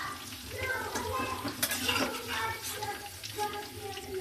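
Carrot pieces frying in oil crackle and hiss while a spoon stirs and scrapes the pan, busy, close clatter with faint voice in the background.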